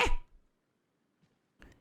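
A single sharp, close sneeze bursts out at the start, followed by near silence and a faint short sound toward the end.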